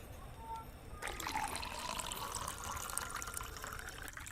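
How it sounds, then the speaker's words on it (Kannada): After a faint start, water begins pouring steadily into a vessel, a continuous splashing stream that holds for a few seconds. "ನೀರು ಹಾಕ್ತೀನಿ ರೀ ಮೊದಲು"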